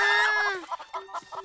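A chicken lets out a drawn-out squawk, then clucks several times in short, quick bursts nearby.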